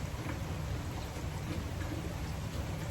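Steady rain falls outdoors in a fishing spot, a dense, even hiss with low rumbling texture holding constant throughout, no voices.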